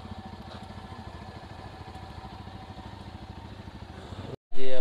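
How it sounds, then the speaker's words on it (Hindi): A motorcycle engine runs steadily on a road between Kishtwar and Kashmir, a continuous mid-pitched drone that holds for about four seconds before a brief dropout and a sudden loud burst at the end. "ये दूसरा बाइक"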